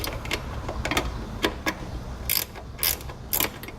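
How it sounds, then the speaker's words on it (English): A 10mm ratcheting wrench tightens small studs holding Westin nerf bar brackets on a 2016 Chevrolet Colorado, giving bursts of quick close clicking ratchet strokes separated by short pauses, with no talk. "I'm using a 10mm ratcheting wrench to tighten those up since there is a limited amount of clearance back here"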